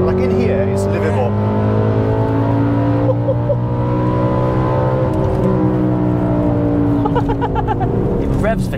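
Heard from inside the cabin, the engine of an Audi B7 RS4 or BMW E92 M3 climbs steadily as it revs, a loud sustained tone rising in pitch, while people talk over it.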